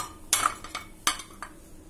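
Chickpea and potato chaat is tossed with green chutney and chopped coriander, making a couple of crisp clinks and scrapes of a spoon against a bowl over a short, quiet stretch.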